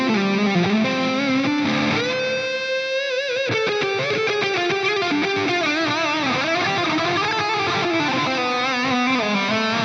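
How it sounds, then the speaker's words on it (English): Heavily distorted electric guitar on the neck pickup through an Axe-Fx III plays a sustained, singing, mid-forward lead line with a shimmering, chorused and echoing tail, loud and continuous throughout. "There's a little bit of chorus on there and it sounds like this on the neck pickup."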